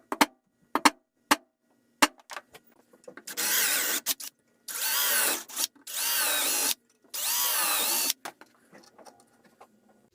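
A power drill pre-drills holes in short metal straps, with several sharp taps and then four sustained high whirring bursts, each separated by short pauses, close and clear in a quiet workshop.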